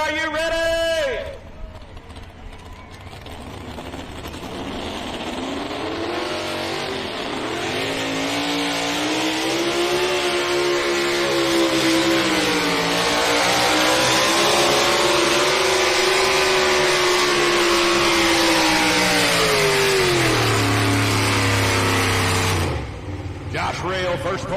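Modified two-wheel drive pulling truck at a truck and tractor pull in Rock Valley, Iowa, its engine roaring and revving in a long sustained loud wail that climbs and dips, with crowd noise and an announcer's voice around it.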